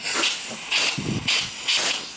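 Aerosol spray can hissing underneath the rear side of the tray on a Can-Am Renegade ATV, in four steady bursts of about a quarter second each with short pauses between, close and fairly loud.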